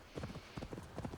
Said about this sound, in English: I don't like the noises the horse makes because it kind of makes him sound sad.